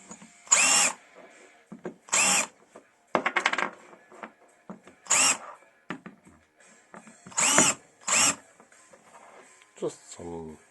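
A BF25 mill chamfers a freshly drilled hole in repeated short bursts of high metallic whirring and grinding, each separated by near silence, with a brief voice near the end.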